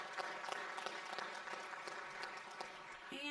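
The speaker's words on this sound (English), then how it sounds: "So round of applause for that." Audience applause for the Unitarian Universalist Church hosting a Muncie Resists primary candidate forum, a steady patter of many hands clapping indoors at moderate distance, fading near the end.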